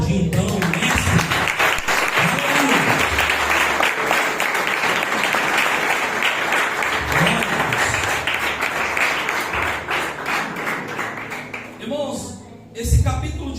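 A church congregation claps together during a Christian sermon, a dense, steady wash of applause running nearly the whole time, with a few voices and some low thumps mixed in, then fading near the end.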